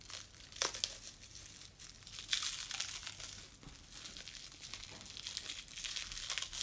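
Plastic wrap around a boxed anatomical heart model crinkles and crackles in irregular bursts as it is pulled and unwrapped close by, with a few louder rustling snaps.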